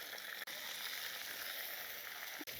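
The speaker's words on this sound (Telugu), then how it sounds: "ఇప్పుడు దీంట్లోనే ఈ వంకాయ ముక్కలు వేసేసుకుందాం." Eggplant pieces frying in hot oil for a village-style catering curry; a dense, even hiss of sizzling oil close by, with two brief dropouts, no talk.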